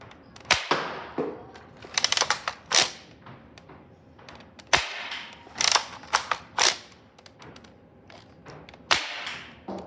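An X-Shot Furry-X toy blaster fired without its long shot barrel at a shooting range, giving several sharp, loud plastic cracks and snaps spread irregularly, with mechanical priming clicks and ratcheting between shots.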